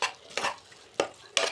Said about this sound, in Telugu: తగినంత నారియల్ పౌడర్ వేసుకొని దీన్ని ఇలా మిక్స్ చేసుకోండి